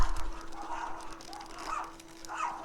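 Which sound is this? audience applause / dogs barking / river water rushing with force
dogs barking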